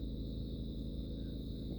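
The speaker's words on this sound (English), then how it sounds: "it is crazy quiet. Nothing but crickets." Crickets chirp steadily on a quiet nature preserve at Land Between the Lakes, a continuous high insect trill running unbroken over a low ambient rumble, with no voices.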